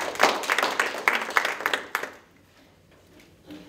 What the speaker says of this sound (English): So, we give that group a round of applause.